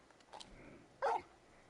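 Torgal, the large dog companion in Final Fantasy 16, gives a couple of short, faint barks, the second one louder, over quiet game background.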